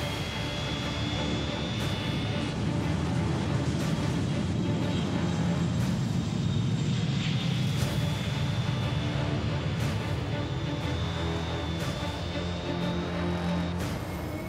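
An airplane taking off, heard as a steady, loud broadband engine roar with a low rumble and a faint high whine that holds level throughout, with no speech.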